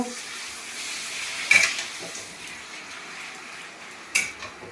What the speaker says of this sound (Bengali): সব একে একে ভাজা হচ্ছে দেখুন, পর পর পাঁপড় ভাজা হচ্ছে।